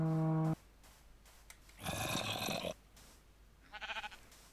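Sheep in the video game Minecraft let out a short, faint bleat, with a brief louder noisy burst in between and a tonal game sound at the start, all against quiet background.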